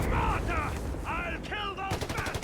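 Machine gun fire in the Company of Heroes 3 strategy game, rapid close bursts that stutter in short repeated volleys, with a commentator's voice running over parts of it.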